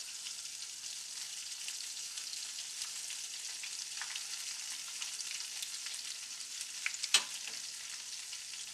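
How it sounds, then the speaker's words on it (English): Fish fries in a cast iron pan with a steady, fairly soft hiss of crackling oil, with faint pops throughout and one sharper crackle toward the end, no voices. "when you fry things, you need to fry in a cast iron"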